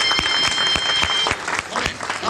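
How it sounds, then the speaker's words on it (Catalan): Applause from a children's theatre show audience, loud and dense with sharp claps throughout, rising and falling slightly over a couple of seconds. "un fort aplaudiment."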